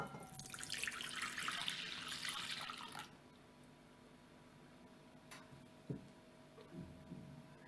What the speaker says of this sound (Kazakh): Ыдысқа жылы сүт құямыз.